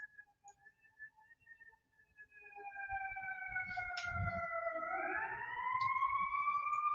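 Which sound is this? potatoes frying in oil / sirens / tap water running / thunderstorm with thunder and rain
sirens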